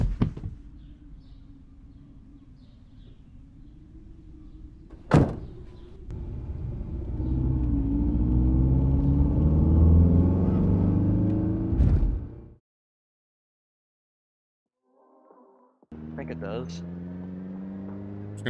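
A car engine in the video game Project Zomboid: a steady rumble with a rising, revving hum runs for several seconds, broken by sharp thumps, then cuts to silence before a brief noisy burst resumes.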